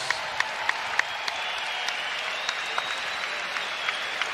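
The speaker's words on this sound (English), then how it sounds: "may we please have a round of applause for these 2" A crowd applauds boxers at a professional boxing event with a dense, steady wash of clapping and a few sharp nearby claps, sustained and fairly loud.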